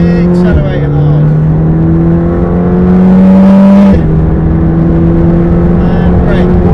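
A supercar accelerates hard on the Silverstone track, its engine droning loud and close, rising in pitch through the gears with a shift midway, under an instructor's voice.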